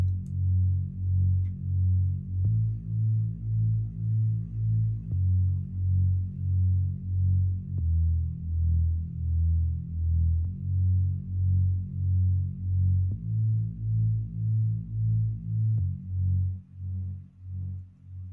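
A darkened click bass from a hip-hop beat plays alone as a deep, rounded synth bass line. It pulses in a steady repeating rhythm of short throbbing notes and fades out at the end.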